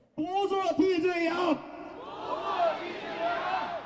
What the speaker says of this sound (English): A cry fills downtown Brooklyn as thousands of Asian Americans gather in Cadman Park Plaza